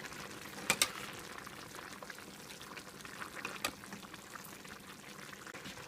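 Chicken asado simmering in a pan as it is stirred, with a steady bubbling, sizzling hiss throughout and a couple of brief louder scrapes or splashes from the stirring, heard close with no voices.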